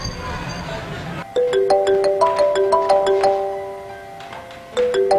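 A mobile phone plays a melodic ringtone of repeated ascending tones during a prank call, loud and near, with a pause between ring cycles.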